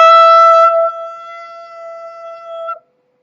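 A sustained vocal toning chant sung as an Inner Earth enchantment: a single steady held tone, rich in overtones, loud at first and then softer, ending abruptly after about three seconds, with no words.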